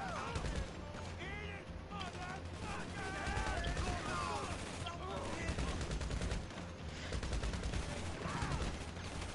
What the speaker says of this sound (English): some guys over there shooting me very hard